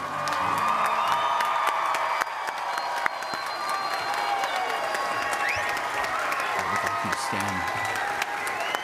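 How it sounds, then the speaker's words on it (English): Applause and cheering for graduates at an online academy's commencement ceremony; a sustained wash of crowd clapping with scattered whoops and shouts, steady and moderately distant across the whole stretch. "Let's hear a big round of applause for all of these graduates."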